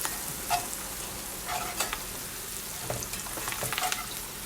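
Onions fry in a pan with a steady broadband sizzle, punctuated by soft stirring scrapes, close and even, with no voices.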